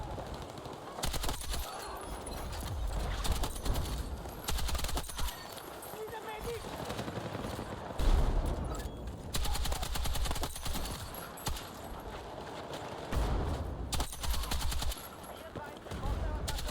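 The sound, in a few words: M240L machine gun fire in video game Battlefield 6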